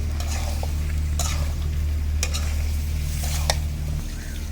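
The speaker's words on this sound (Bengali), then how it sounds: "এখন ভালো করে নাড়িয়ে নিচ্ছে মশলা আর আলু।" Potatoes and spice masala fry in a pan with a steady, close sizzle while a spoon scrapes and stirs now and then. No voices.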